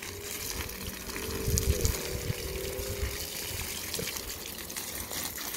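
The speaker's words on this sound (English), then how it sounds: "All the water keeps bouncing off because of your leaf shape." Water sprays from a garden hose onto plant leaves on a sunny San Diego day, a steady, moderately faint hiss and patter with a brief surge partway through.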